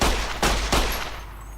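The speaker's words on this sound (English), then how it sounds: "Grenade launcher" Grenade launcher fire in a video game: three loud, sharp booming blasts in quick succession, each followed by a short ringing tail that fades into quiet.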